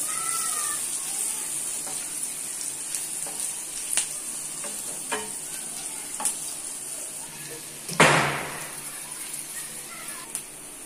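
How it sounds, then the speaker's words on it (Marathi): Onion sautéing in a pan for fried rice, a steady hiss of sizzling with scattered light stirring scrapes and one louder burst near the end, alongside a faint cat meow early on. "छान कांदा परतून घेऊया आपण आधी।"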